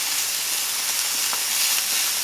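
Chopped garden onions sizzle in a Mexican discada, a continuous, close hiss of frying with faint crackles and no talking.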